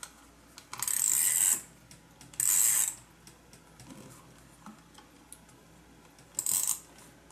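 A tape runner dispensing adhesive tape while a journal is made, giving three short, bright, rasping pulls, each about half a second long, separated by quiet handling sounds.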